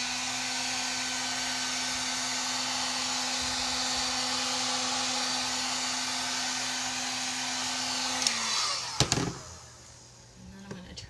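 A heat tool used on an autumn harvest craft decoration blows a loud, steady whooshing hum that cuts off near the end, followed by brief clunks and handling noise.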